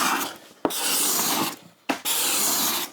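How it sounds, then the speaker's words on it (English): Long, steady rasping strokes of a scraper drawn across the wooden sides of a guitar, close up, with two brief clacks between passes; no talking. "Now all we have to do is scrape down the sides."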